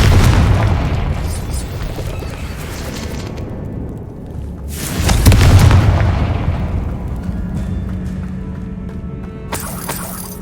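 Confringo spells explode in the Hogwarts Legacy video game as a series of booming blasts with shattering debris, the heaviest burst near the middle, over dense layered game sound effects.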